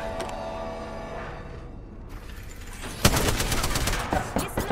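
Video game gunfire erupts abruptly partway through, a loud, dense stretch of rapid shots and impacts that follows a calmer, tonal opening.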